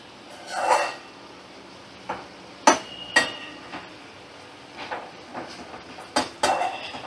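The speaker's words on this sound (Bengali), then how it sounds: "এবার আমি নামিয়ে নেব কড়া থেকে।" Metal spatula scraping and clinking against an iron kadai as a dry okra, potato and mustard-poppy curry is scooped out, a few sharp clanks and scrapes spaced apart, close and alone.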